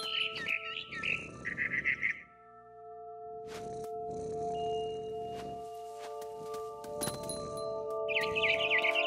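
A bird chirps in short, bright bursts from a tree in the video game What Remains of Edith Finch, the calls coming and going between stretches of ambient hum and soft game sounds.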